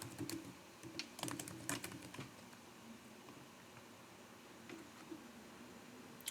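Login credentials being typed on a computer keyboard, rapid clustered keystrokes in short bursts with pauses between them, fairly faint and close, with no talking over them.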